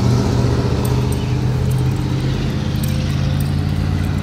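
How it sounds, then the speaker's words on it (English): A car with a loud muffler rumbles past on a neighborhood road, a steady low drone that stays prominent throughout. "Yeah, so loud mufflers."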